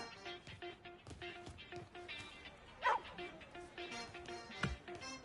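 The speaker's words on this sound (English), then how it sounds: "So we present to you the dog that will whip those owners into shape." A dog barks and yips within Street Fighter 6, a few sharp close barks over a bed of game music and effects, with a voice speaking at times.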